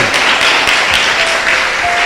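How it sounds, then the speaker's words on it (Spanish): Loud, dense applause from a church congregation fills the room evenly, a steady wash of many hands clapping close by. "Le damos un fuerte aplauso, Rey de los cielos, bien fuerte"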